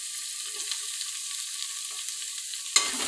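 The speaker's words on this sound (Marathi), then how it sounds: "कांदा, कढीपत्ता आणि व्यवस्थित तेलावरती फ्राय करून घ्या।" Onion and curry leaves frying in oil in a pan, a continuous close sizzle with faint stirring, ending in a brief sharp clatter.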